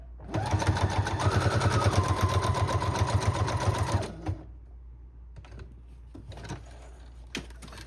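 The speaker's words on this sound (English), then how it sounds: "Just going to do a zigzag stitch." A sewing machine runs a zigzag stitch through a paper file folder, a close rapid mechanical chatter for about four seconds that then stops, followed by light handling noises.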